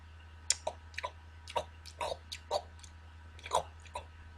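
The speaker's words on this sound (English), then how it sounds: "And your jaws might get tired of chewing, you know?" A person chews food close to the mic, with about a dozen wet, squishy bites and clicks in an uneven rhythm over a low steady hum, with no talk.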